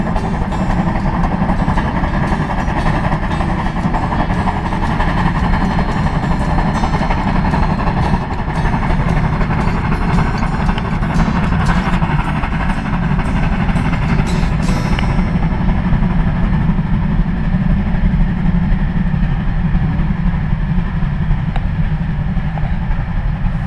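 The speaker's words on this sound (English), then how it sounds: "Here's a view from the car as the engines pushes." Train engines push passenger cars up the Cass Scenic Railroad in West Virginia, heard from inside a car: a steady, loud low rumble and mechanical chug throughout, with no pauses.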